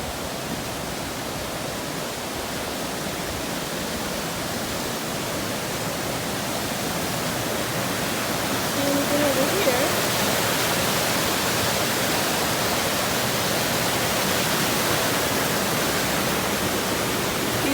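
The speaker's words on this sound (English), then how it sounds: "now we are at a place called Waukena Falls" Continuous broadband roar of Wahkeena Falls in the Columbia River Gorge, steady and enveloping for the whole stretch, with no talking.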